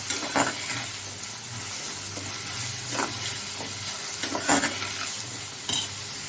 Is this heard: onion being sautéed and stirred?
yes